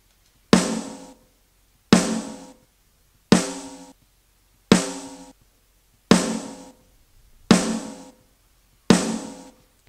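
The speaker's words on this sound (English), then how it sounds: "part of his sound, as we all know, is an emulation of his famous Sony DRE 2000 reverb" Seven evenly spaced snare drum hits, each ringing out in a long emulated Sony DRE 2000 reverb tail that decays before the next strike, heard alone with no talking.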